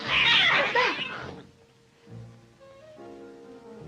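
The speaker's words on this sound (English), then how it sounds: "Oh, those cats." Cats yowl loudly in a drawn-out caterwaul at the start, followed by quieter, fading cries.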